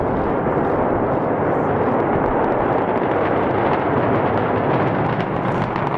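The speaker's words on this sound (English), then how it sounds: "Antares is launched and lifted off." An Antares rocket lifting off at launch, heard as a steady, dense broadband roar that holds at full loudness throughout without letting up.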